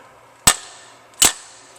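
An RCBS inertia bullet puller, a hammer-style reloading tool, struck twice against a cement floor, giving two sharp loud cracks about three-quarters of a second apart, each with a short ringing decay, close by and without speech.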